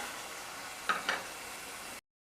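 Potato and brinjal pieces being sautéed in oil for Chettinad aviyal kurma make a quiet, steady sizzle broken by two quick scraping stirs.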